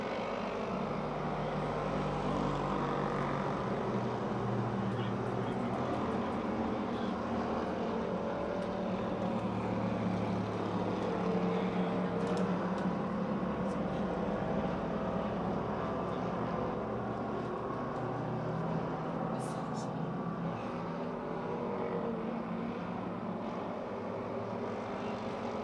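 Race cars lapping at Pennsylvania Motor Speedway near Pittsburgh, a steady, continuous engine roar heard from a distance and holding an even level throughout with no break.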